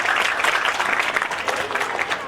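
Audience at a high school event applauding, a loud, close, continuous round of many people clapping with a faint murmur of voices underneath.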